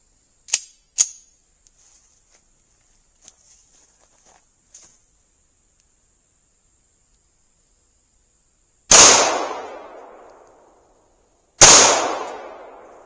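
Two loud rifle shots are fired at a tree from about four yards, each a sharp blast with a decaying tail a few seconds apart, preceded by light clicks and handling noises.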